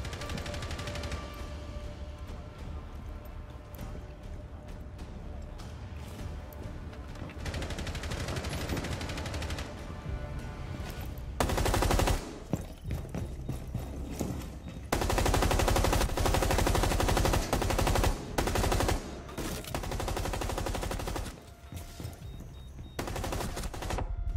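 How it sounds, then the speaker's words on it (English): Rapid automatic gunfire rattles in Rainbow Six Siege, with long sustained bursts and short volleys cutting in and out across a loud, dense firefight, and no talking over it. "just keep the finger on the trigger and let all the bullets do the talking"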